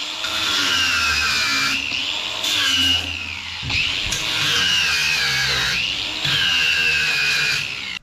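An angle grinder bevels steel space-frame joints before welding. Its high whine holds loud and close through three long passes, each broken by short pauses as the tool lifts off the metal.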